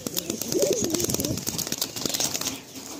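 Male pigeons in a loft coo softly and repeatedly at close range, their low burbling calls overlapping against a steady background hum.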